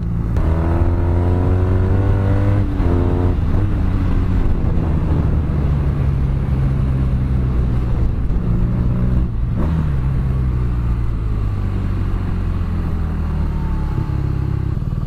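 A 2017 BMW R nine T motorcycle engine drones steadily on a test ride, pitch shifting slightly with throttle, with wind buffeting the microphone and no talking.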